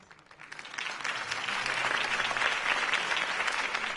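Crowd applause in the Batman Telltale game: clapping swells from quiet to a steady, full ovation from a large crowd, sustained and slightly distant, with no talk over it.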